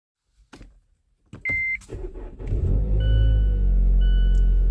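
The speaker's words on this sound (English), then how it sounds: "me and the magster are going for a little drive." A car starts up and drives off with a steady low engine rumble close by, preceded by a few door and handling clunks and a short electronic beep, then a faint chime tone repeating over the running engine.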